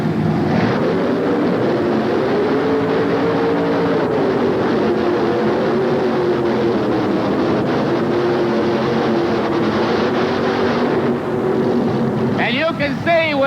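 Modified tractor engines roaring at a tractor pull in Birmingham, a loud, sustained mechanical drone with shifting engine pitch, continuous throughout and rising into a brief higher whine near the end.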